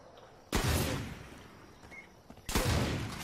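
Gunfire in the video game Far Cry 5, two sharp blasts a couple of seconds apart, fairly close, with faint background ambience between them.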